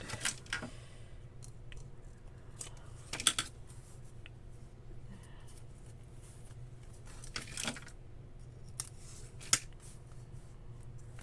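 Scissors cutting paper for reading-journal decoration, heard as a handful of sharp, separate snips spread out over a quiet room tone, close by and without any talking.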